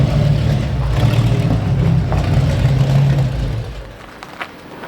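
A tuned car engine drones under low revs while driving in Milan, a steady rumbling growl that fades and drops away near the end, leaving quieter road noise and a faint knock.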